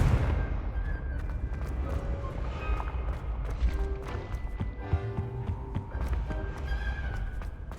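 Confringo blasting spell in Hogwarts Legacy going off amid a dense, rumbling stream of booms and crackling impacts, loud and continuous with game sounds layered over it.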